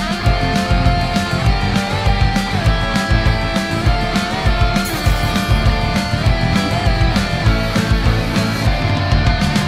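Bingo rendered as a dense, full-band arrangement in Dodo Re Mi from Jackbox Party Pack 10, a public-domain children's tune turned into a bright rhythm-game track, playing steadily and loud throughout with no talking.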